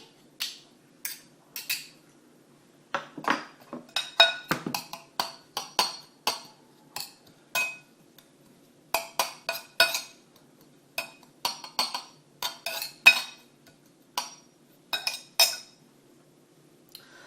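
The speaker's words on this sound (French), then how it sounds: "on le mélange au persil" A potato filling being mixed with parsley in a bowl, sounding as a long series of sharp utensil clinks and taps against the bowl in irregular bursts, close and fairly quiet with silence between.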